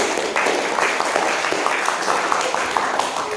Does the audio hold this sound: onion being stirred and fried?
no